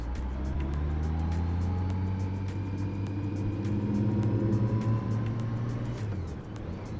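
Motorcycle riding along a road outside Livingston, Tennessee, with a steady close engine drone that rises through a gear change and eases off near the end, alongside rushing wind noise.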